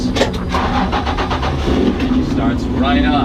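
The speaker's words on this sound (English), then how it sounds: "Engine starts right up." A Spoon Sports-modified 2005 Honda NSX-R GT (NA2), a turbocharged car, cranks and fires up with a loud, near roar that settles into a steady idle, with a voice briefly audible.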